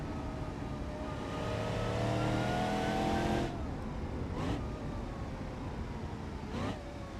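Simulated car engine in the driving game BeamNG.drive revving hard and steadily for several seconds, then dropping off, followed by a few short, sharp rev blips, loud and close, with no talking.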